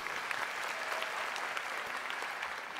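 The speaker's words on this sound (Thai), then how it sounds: "ผมปรบมือให้ภรรยาพี่ทวีหน่อยครับ" Studio audience of a Thai televised singing contest applauding: a steady, even patter of many hands clapping throughout, moderately loud with no voices over it.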